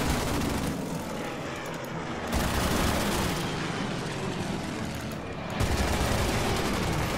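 Fighter planes attacking an artillery piece in the World War II strategy game Order of Battle, continuous loud rattling machine-gun fire mixed with engine roar, in two or three dense waves, close and without talking.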